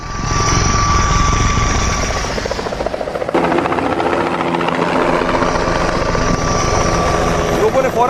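A helicopter sits at the Kedarnath helipad after an emergency landing. Its rotor and engine roar loud and close the whole time, with a steady chopping drone, and voices talk over it.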